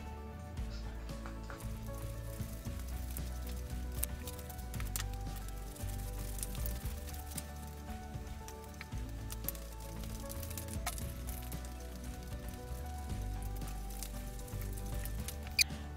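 Purple Christmas slime mixed by hand with paint and activator gives soft, continuous squelching and sticky patter, quiet and close, with no voices.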